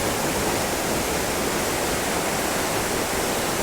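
Jungle waterfall beside an ashram produces a thick, constant roar of falling water, loud and close, filling the whole sound with unbroken noise.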